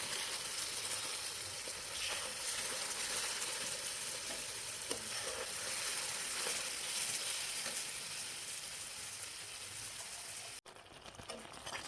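Chopped tomato and green chillies fry in hot oil for a tempering, giving a steady, close sizzle with soft stirring scrapes and spatters, ending in a sudden drop-off near the end.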